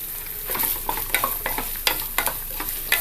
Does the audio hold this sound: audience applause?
no